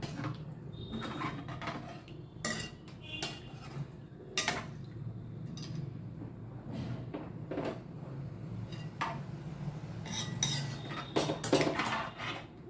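Spoon clinks and scrapes around a pot of tamarind stew being mixed, scattered metallic knocks recurring irregularly at moderate distance over a low kitchen hum.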